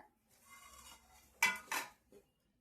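Steel cookware, a flat griddle pan, a frying pan and a deep kadai, handled in a home kitchen, giving two sharp metallic clanks close together followed by a lighter knock, with soft handling noise in between.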